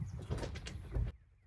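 A door on a newly built 12x16 wooden utility shed swings shut, a short rumbling slide ending in a firm thud and then near silence, close by.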